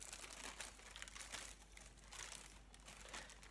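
Paper packaging being crumpled and handled, a continuous crinkly rustle with bursts of louder crackling, close and fairly quiet, without voices.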